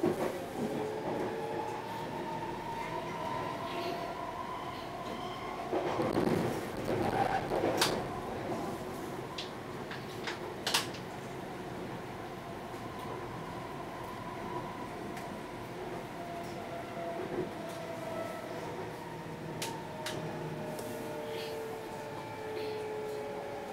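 A Vancouver SkyTrain Canada Line train rolls toward Richmond-Brighouse, with a steady rumble and hum of the car in motion, some rattles and brief clunks along the way, and faint tonal whines from the drive.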